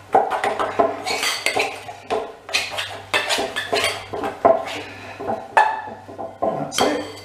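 A palette knife scraped and rubbed around a metal baking tin for currant tea cakes, giving repeated close metallic scraping strokes and clinks in an uneven rhythm, no talk.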